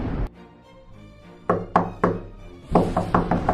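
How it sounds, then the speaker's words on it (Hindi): Knocking on a house door on a rainy night, in a Hindi cartoon story: a single thump, then two sets of three firm raps spaced about a quarter second apart, close and clear over soft background music. "मदन के घर का दरवाजा खटखटाते हैं।"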